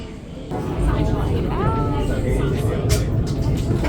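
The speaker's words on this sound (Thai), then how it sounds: "เราก็มาเปลี่ยนรถไฟฟ้า กันที่ไทเปเมนสเตชัน" Busy indoor ambience at Taipei Main Station metro, with a steady low rumble, a passing train or escalator drone, and people talking nearby.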